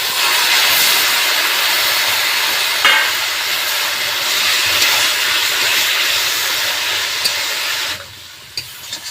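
Onion stalks hit hot oil seasoned with whole cumin, two green chillies and a dried chilli, giving a loud, close, steady sizzling hiss that fades out near the end, with no speech.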